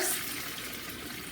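Water poured from a half cup into a cooking pot while making shrimp empanada filling, a soft, steady splashing trickle at close range with no talk.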